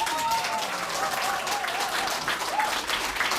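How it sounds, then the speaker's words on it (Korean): Sustained audience applause at a Yeongcheon mayoral preliminary candidate's election office opening ceremony, a dense steady wash of many hands clapping with faint voices mixed in. "박수 한번 주십시오"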